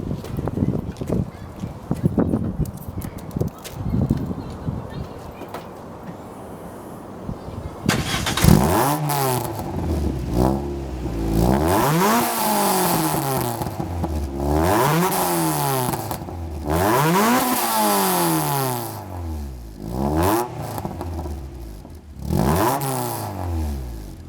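Citroen Saxo VTS engine fitted with a Saxo Sport decat exhaust, warm, revved repeatedly after a quieter start: loud rising-and-falling blips in a steady rhythm, close by, with no talk over it.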